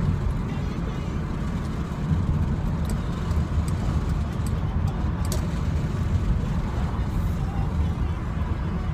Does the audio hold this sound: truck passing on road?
yes